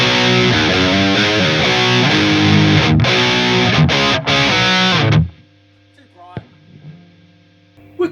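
A high-gain, heavily distorted electric guitar plays through an EVH 5150 Iconic amp, with loud chugging riffs and sharp stops that cut to near silence after about five seconds, leaving hum and faint string noise.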